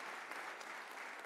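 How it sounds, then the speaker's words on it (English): Faint, distant audience applause at a Black History Month celebration and awards ceremony, a soft even wash of clapping that lasts only a moment. "let's give a round of applause for all of them who's dedicated their time to that mentorship."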